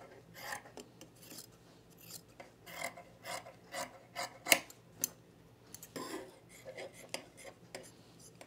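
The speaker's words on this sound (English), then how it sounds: "I'm going to trim the seam allowance down a little bit" Scissors trimming a fabric seam allowance on sewn pants, a quiet series of close snipping and rasping cuts in short bursts with small pauses between them.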